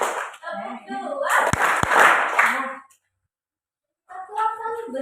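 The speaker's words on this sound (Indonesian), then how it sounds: "tepuk satu, tepuk dua," Children clap hands in rhythm at a school gathering, a few sharp claps mixed with voices, then a brief pause before more talking resumes.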